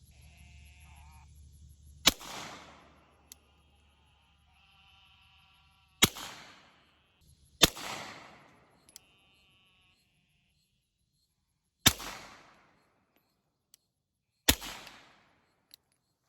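Suppressed shots from a Glock pistol with a cheap threaded barrel ring out one at a time, five sharp cracks spaced unevenly, each with a short decaying tail, over faint outdoor insect chirping.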